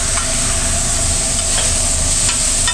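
Bacon sears on a food truck griddle, a loud, dense, steady sizzle close up with a low rumbling undertone and a few faint scrapes, with no one talking.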